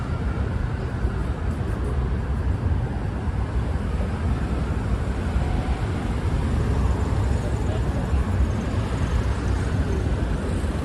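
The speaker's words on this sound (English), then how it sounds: "These are all the cars going on the roundabout to get on the bridge to go to Brooklyn." Steady broadband roar of car traffic circling a roundabout onto the Brooklyn Bridge in New York City, a continuous, fairly distant wash of engines and tires with no single vehicle standing out.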